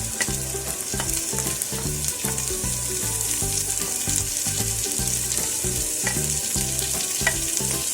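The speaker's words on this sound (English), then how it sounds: "Now we will put the onion." Onion sizzles and fries in a hot pan while being stirred, a steady crackling hiss with rhythmic scraping throughout, no voices.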